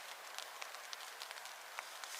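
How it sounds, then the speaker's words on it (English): Light rain falls on a hiking trail in Maine on the Appalachian Trail, a faint, steady patter with scattered soft drop ticks and no talking. "you hear the raindrops coming. It's raining a little bit."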